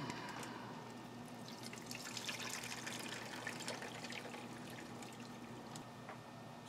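Meat juice from cooked bison chuck steak being poured off, a soft, steady trickle of liquid heard faintly and close by without any talk.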